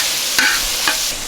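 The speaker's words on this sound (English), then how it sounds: "I'm adding the peppers. I'm just going to cook for another minute or two." Peppers sizzle and fry on a Skottle griddle, loud and close, with a spatula scraping through them in two quick strokes over a steady hiss.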